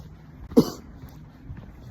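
A single short, sharp cough, close by, in an otherwise quiet setting.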